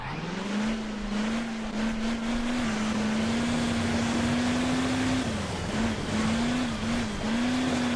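A cartoon vehicle's engine in Hill Climb Racing 2 drones loudly and steadily as it drives, its pitch wavering slightly up and down while it climbs over the terrain.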